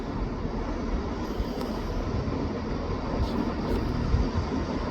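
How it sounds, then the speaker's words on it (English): A ScotRail service from Aberdeen to Glasgow Queen Street pulls into Perth station with a steady, close rumble of wheels and carriages that swells slightly toward the end, with no talking. "Arriving in now is a ScotRail service from Aberdeen to Glasgow Queen Street"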